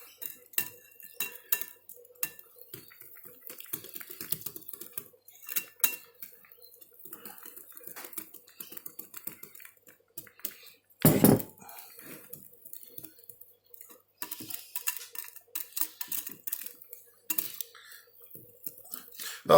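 Whisk working sifted all-purpose flour into sponge cake batter in a bowl, producing close, irregular clinks and taps of metal against the bowl with brief pauses and one louder knock midway.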